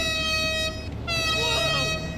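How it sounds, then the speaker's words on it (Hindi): A new motorbike's horn blares in GTA 5 in a steady, near, loud tone with a stacked harmonic sound, broken by a brief gap and then sounding again. "ये देखो हॉर्न बजा रहा हूँ मैं अपनी नई बाइक से,"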